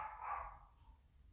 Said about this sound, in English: And there's my dog. Somebody's coming to the door. Can you hear him?